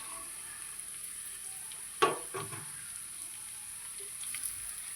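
Fried sardines drop into a pan of sardine curry with a single soft splash, then a brief stir and faint sizzle over quiet background hiss.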